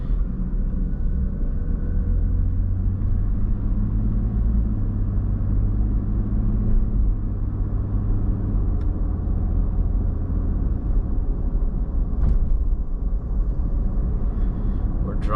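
A car drives east along Carlton Street through St. Catharines' North End, its steady low engine and road rumble continuous and close throughout, with faint traffic noise rising now and then.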